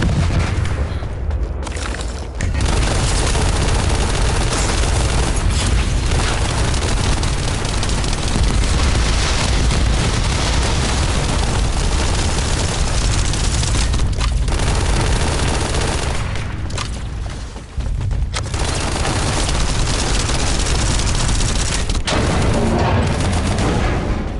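Loud, sustained gunfire from The First Descendant fills the whole stretch with dense automatic bursts and booms. It drops off briefly twice before resuming at full intensity, with no talking.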